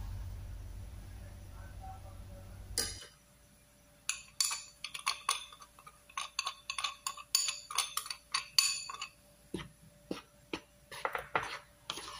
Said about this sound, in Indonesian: tepung terigu kita campur dengan tepung maizena. Kemudian aduk hingga tercampur rata